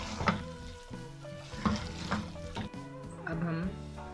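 Aloo methi frying in a pan as coriander and slit green chillies are stirred through it, with a steady sizzle and several scraping spoon strokes close up.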